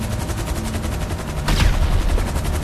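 Gunfire in GTA V Online, a dense rapid rattle of automatic shots throughout with a louder burst partway through, close and harsh.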